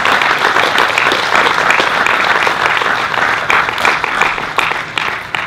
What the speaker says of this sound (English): he alone deserves perhaps a round of applause from us